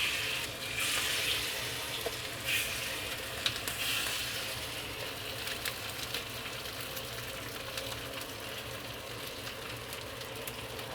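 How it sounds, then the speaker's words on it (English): Fish fillet pieces fry in a non-stick pan with a steady, dense hiss and crackle that carries on without a break from start to finish. "Slide in these fish pieces one at a time."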